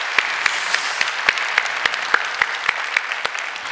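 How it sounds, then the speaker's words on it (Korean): A Korean church congregation gives thankful applause at a Christmas Sunday anniversary service: a close, lively wash of clapping punctuated by a steady, evenly spaced beat of sharper claps throughout. "하나님께 우리 감사의 박수 올려드리도록 하겠습니다."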